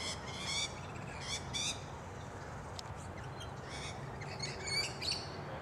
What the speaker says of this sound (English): Rainbow lorikeets yelling at them.